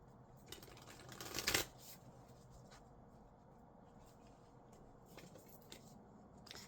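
An oracle card deck is shuffled close up, with a quick loud riffle burst early on followed by softer sliding and tapping of cards, quiet and without speech.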